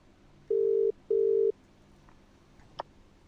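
A telephone call rings out on the line: two steady ringback bursts close together, then a quiet pause and a faint click, with no talking.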